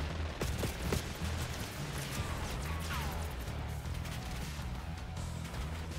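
Sniper rifle fire in Call of Duty Black Ops 6 gameplay: a few sharp distant-sounding cracks early on, then a busy backdrop of scattered battle noise and clatter.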